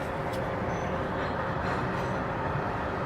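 A CSX grain train with locomotives pulls in at night, slowing as it brings in grain hopper cars, a steady, broadband rumble of rail cars and engines rolling along continuously at moderate distance with no talk.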